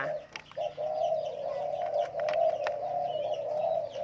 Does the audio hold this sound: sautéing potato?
no